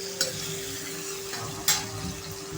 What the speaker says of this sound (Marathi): 2 टोमॅटो घेऊन त्यांना छान मऊ होईपर्यंत शिजवून घ्यायचं आहे।